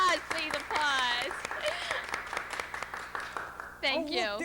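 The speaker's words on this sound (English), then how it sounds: "Yes, applause, please, applause." Audience applause at the 1995 Mummers Museum telethon, a steady wash of clapping running beneath prominent voices and sung or spoken tones throughout.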